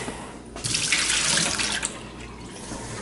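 Water gushes from a faucet into a sink while a seasonal home's plumbing is drained for winter: a steady, close, fairly loud hiss that swells after a moment and then eases slightly, with no voices.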